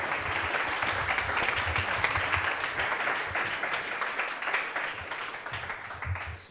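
A room of attendees at a Vue developer conference applauds a speaker, the steady clapping filling the whole stretch at moderate loudness and easing slightly toward the end.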